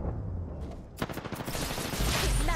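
Weapon fire in the video game Apex Legends: rapid automatic gunshots burst in loudly after a brief quiet moment, forming a dense, close rattle that continues to the end.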